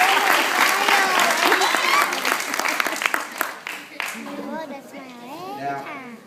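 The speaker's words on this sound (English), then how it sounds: "So let's give all of our kids a" Applause from a children's award ceremony fills the start as many hands clap steadily, with young voices and chatter mixed in; the clapping thins out and children's voices and an adult speaking take over toward the end.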